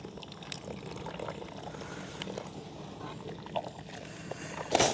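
Coconut milk mixed with kesari colouring powder is poured and stirred in a village kitchen while making kesari, a soft continuous trickle and swish with occasional small clinks, ending in a louder splash.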